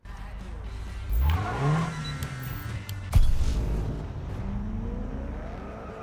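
Car engine and tyres in Need for Speed (2015) while drifting behind another car, rising revs and gear shifts with a sharp squeal or impact burst midway, engine droning on steadily after.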